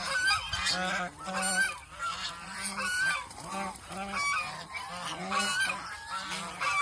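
Large male domestic ducks, heavy drakes of around nine kilograms, honk and call repeatedly in a loud, busy chorus close by, with overlapping calls and no talking.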